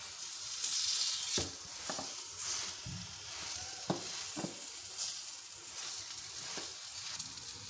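Paratha frying in cooking oil on a hot griddle, a steady close sizzle with occasional sharper crackles and spatters, no talking.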